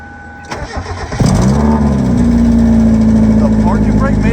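An abandoned Mazda Miata that barely runs cranks briefly, then its engine catches and settles into a loud, steady, rough idle close by, with a voice heard faintly at the start.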